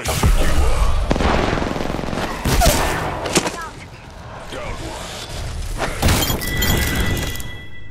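Gunfire in Apex Legends, loud bursts of shots and impacts with shattering cracks and booms, dropping to quieter stretches between, while players talk over some of it.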